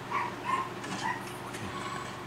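A few faint, distant dog barks come through a quiet, hissy background, three soft yaps early on before the sound fades into low noise.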